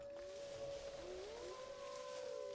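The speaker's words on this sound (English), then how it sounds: "Does wolf sound upset?" A wolf howl in Assassin's Creed Odyssey: a sustained, wavering tonal wail that rises and bends over a steady hum, faint against a hazy game ambience with no talk.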